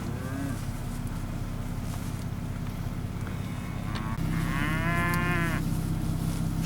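Angus cattle at a fall farm sale in Georgia low, drawn-out moos over steady crowd and pen noise, one long close moo near the end rising above the din.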